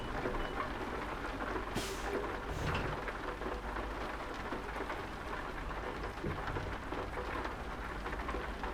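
Steady rainfall in Euro Truck Simulator 2 on a British haul, a constant dense hiss of rain on surfaces with a low rumble beneath, unbroken and without speech.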